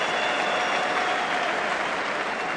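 A big arena crowd at a 1984 boxing match in Ireland applauds loudly and steadily, a dense continuous roar of clapping that fills the space with no gaps.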